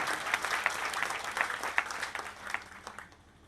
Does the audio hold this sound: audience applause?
yes